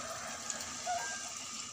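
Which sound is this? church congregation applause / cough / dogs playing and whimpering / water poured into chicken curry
water poured into chicken curry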